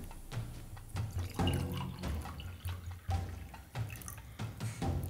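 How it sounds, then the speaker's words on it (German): Water poured into a glass at a desk, a close, quiet trickle with gurgling bursts and drips that swell and pause in uneven pulses. "Ich habe mir gerade mal Wasser eingeschenkt."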